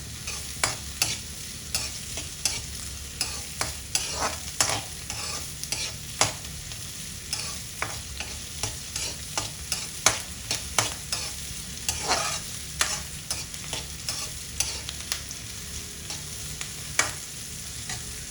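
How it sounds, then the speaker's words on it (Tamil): Ingredients sautéing in a pan before agathi greens go in, a constant sizzle under frequent quick scraping and tapping of a ladle stirring against the metal, close and rhythmic throughout. "இது நல்லா கொஞ்சம் வதங்கணும்."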